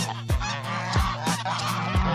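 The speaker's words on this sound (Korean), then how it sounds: "쓸데없이 친한 척을 하는 거위들은 오늘도 내 촬영을 방해한다." Several geese honk nearby in a repeated, overlapping series of loud nasal calls, roughly one every half second.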